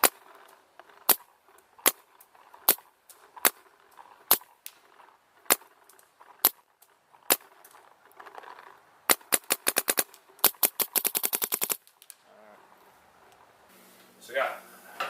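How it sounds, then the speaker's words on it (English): Dye DM14 and Luxe paintball markers firing in turn, first a run of evenly spaced single sharp cracks, then a fast rapid-fire burst, loud and close, with a brief muffled sound at the end. "after shooting the two guns, side by side"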